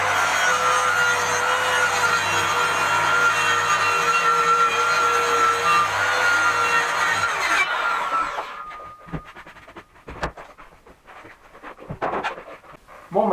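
A power saw whines loudly through a wooden panel for several seconds, then stops, leaving scattered knocks and handling noises.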